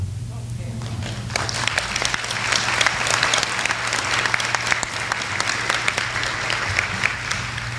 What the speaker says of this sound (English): let everybody give her a round of applause